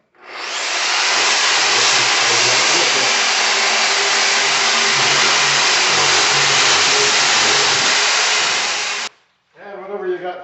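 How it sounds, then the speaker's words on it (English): A power sander strips a gray finish from the metal of a 1985 BMW 633 CSI fuel tank, a loud, steady close whine and rush running unbroken for about nine seconds before cutting off, followed by a brief voice. "I use this thing with the sander on it"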